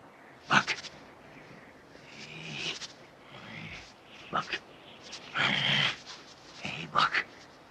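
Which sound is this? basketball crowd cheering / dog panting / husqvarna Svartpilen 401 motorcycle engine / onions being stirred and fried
dog panting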